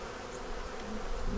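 Honey bees from a swarm hum and buzz in a dense, continuous drone, close and fairly loud, with individual insects flitting past.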